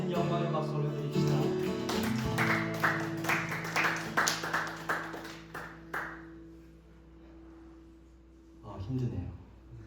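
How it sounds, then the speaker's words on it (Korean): A church youth congregation claps along during Sunday worship, a run of quick, even claps rising over a sustained keyboard chord and then fading into a quieter pause before a voice returns. "우리 하나님께 모든 영광의 박수 올려드립시다."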